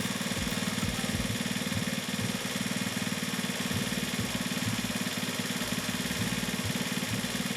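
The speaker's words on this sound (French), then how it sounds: "Le régime s'emballe, donc je diminue le régime moteur en dévissant la vis de ralenti." A motorcycle engine idles steadily with a fast, even, thumping pulse during carburetor idle-screw tuning, close and constant throughout, with no voices.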